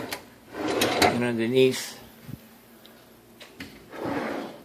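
Kitchen drawers on smooth glides slide open and shut a few times, rolling and thudding close by, while a person talks over and between the movements.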